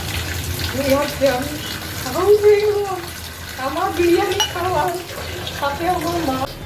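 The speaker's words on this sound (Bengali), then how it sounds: "তার জন্য আমাকে এখন বাসনগুলো মাজতে হবে" Dishes being washed under running water in a sink, a steady splashing wash with some clinking, while a person talks over it throughout.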